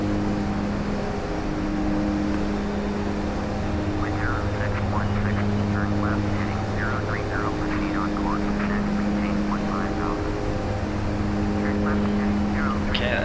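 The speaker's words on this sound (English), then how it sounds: "a tin box with a couple of really powerful turboprop engines on each side" A Widerøe Twin Otter's two powerful turboprop engines drone steadily in flight, a loud continuous hum with strong low tones, while someone talks over it.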